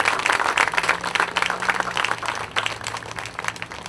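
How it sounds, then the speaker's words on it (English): An audience at an outdoor veterans' honor ceremony claps, a dense burst of applause that is loud at first and thins out over a few seconds. "So can we give them all a big round of applause?"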